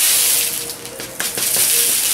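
Saturated green desiccant beads poured from an air dryer into a bucket, giving a steady, close granular hiss with scattered small rattling clicks throughout.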